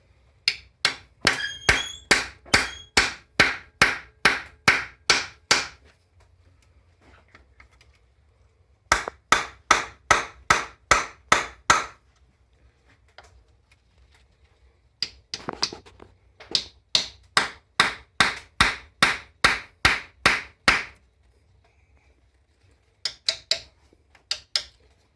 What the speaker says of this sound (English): You're going to want to shock all these bolts.